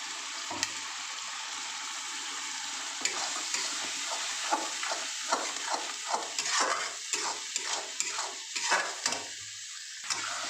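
Chilli powder masala paste mixed with water sizzles in a pan while a spoon scrapes and stirs it in repeated strokes, the frying hiss steady and close throughout.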